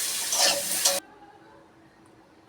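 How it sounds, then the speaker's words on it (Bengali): Vegetables frying with turmeric and salt in a pan, a loud close sizzle for about a second that cuts abruptly to near quiet with faint low background noise. "আমি এক এক করে সব সবজিগুলোই একসাথেই ভেজে নেব।"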